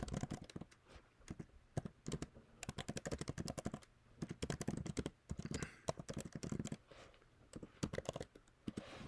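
Rapid clicking keystrokes on a computer keyboard, typed in quick bursts with short pauses between them, close and fairly loud with no one speaking.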